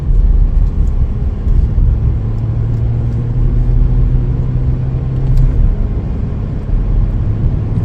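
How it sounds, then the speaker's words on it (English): A 2021 Chevrolet Colorado Crew Cab LT pickup truck rolls along on a test drive, giving a steady low cabin rumble with engine drone and road noise, smooth and continuous throughout. "Take it for a little test drive here."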